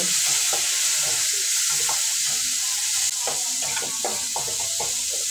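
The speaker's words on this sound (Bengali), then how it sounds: "মশলা খুব ভালোভাবে কষে নেব যতক্ষণ না মশলা থেকে তেল ছেড়ে দিচ্ছে" Masala spice paste for egg curry fries and is stirred until the oil separates: loud, continuous hissing sizzle up close, punctuated by frequent rhythmic spatula scrapes and knocks on the pan.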